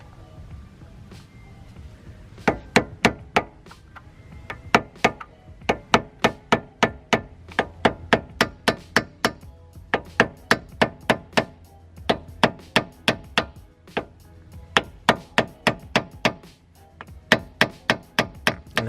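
Sharp metallic hammer blows ring out close by, dozens of quick strikes in uneven bursts, as the axle nut on a Subaru WRX Bugeye is staked with a punch.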